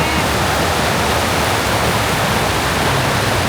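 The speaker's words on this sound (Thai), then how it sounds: "ได้ยินเสียงแม่น้ำอีก" A river rushes steadily in a Thai nature spot, a loud, unbroken broadband roar of flowing water filling the whole stretch with no voices over it.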